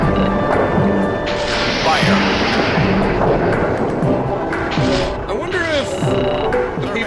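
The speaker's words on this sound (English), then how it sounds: "Firing torpedoes." Submarine launching torpedoes in the video game Steel Diver Sub Wars, heavy booming launch thumps with whooshing and swirling underwater effects, a dense layered game soundscape with a voice briefly heard among the effects.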